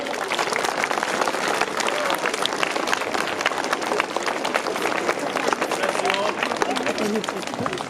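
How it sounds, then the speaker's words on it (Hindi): Loud, dense applause from a school audience welcoming a guest at a Veer Bal Diwas event, sustained clapping filling the whole stretch with crowd noise mixed in. "सर का जोरदार ताली से स्वागत करेंगे।"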